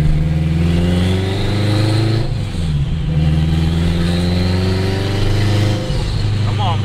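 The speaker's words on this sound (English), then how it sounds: "When that turbo spools up," A turbocharged, straight-piped 800 hp AWD 2002 Acura RSX Type-S accelerating hard, loud engine drone climbing in pitch with a brief dip between gears, someone talking over the steady roar.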